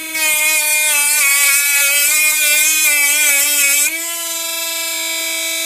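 A cheap Chinese mini grinder/engraver whines steadily at high speed while deburring metal, with no bogging under load. The pitch drops slightly near the end, and the tool runs close and loud throughout with no talking.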